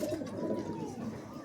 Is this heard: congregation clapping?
no